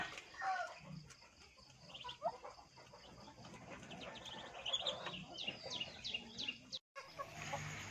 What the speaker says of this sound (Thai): เป็ดกับไก่กินข้าวด้วยกันเจ้า